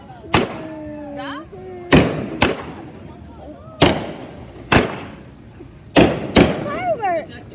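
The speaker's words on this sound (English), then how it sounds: "Firework." Fireworks burst in a series of sharp, loud bangs spaced irregularly, some trailed by crackling and whistling rockets, with people talking between the blasts.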